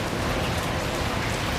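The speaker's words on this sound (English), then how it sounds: "it's a good shower" Heavy rain pouring down in a thunderstorm, a dense, even wash of hissing drops close by with no breaks, no voices.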